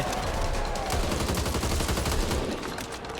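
Sustained gunfire in the zombie shooter game Back 4 Blood, a dense continuous barrage of shots with no pauses, loud and steady throughout.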